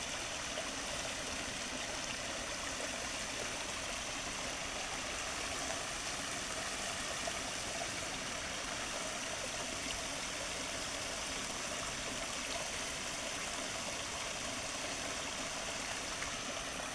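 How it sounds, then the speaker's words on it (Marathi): Water of a small stream near a mango orchard flowing steadily, a constant broadband rush and babble that stays even and fairly distant throughout, without any talk. "आता आपण तेथील पाणी कसं वाहतं ते आपण आता पाहूया."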